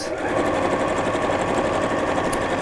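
A sewing machine stitches a drawstring bag around a curved gusset seam at a slowed pace, a steady close mechanical whir with rapid needle rhythm, no voices.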